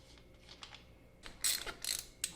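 Tools work loose the engine bolts on a Ducati Monster S2R 1000 motorcycle, likely a ratchet. Quiet metallic ticks give way to several sharp, close ratcheting bursts in quick succession, with no speech.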